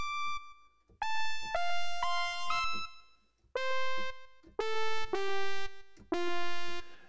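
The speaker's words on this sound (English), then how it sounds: "And that is a DX7 clone, KQ Dixie on my phone." KQ Dixie, a DX7 clone synthesizer app running on an iPhone, plays a sequence of bright, bell-like FM notes, each attack sharp, then ringing and decaying, with several overlapping, clear and close with no talk.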